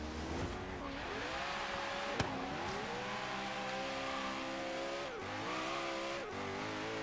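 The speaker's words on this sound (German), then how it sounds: "Man hat es, glaube ich, gehört, Lambo-Motor." A Lamborghini engine in the racing game Forza Horizon 3 roars steadily, revving up and down through gear shifts, loud and close with a brief sharp click partway.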